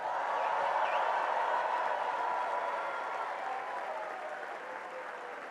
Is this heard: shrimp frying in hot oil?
no